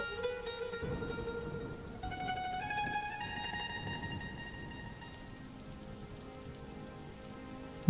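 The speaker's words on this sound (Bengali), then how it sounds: "বৃষ্টির জল যে ভাতের হাঁড়ির মধ্যে পড়ছে" Rain falls in a cartoon scene, dripping into a rice pot, a steady patter of raindrops heard alone beneath a thin layer of background music.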